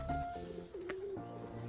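Crested pigeons cooing close by, a few soft rolling coos in quick succession over a faint background hum.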